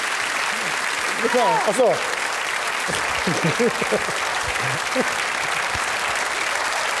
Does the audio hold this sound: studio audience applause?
yes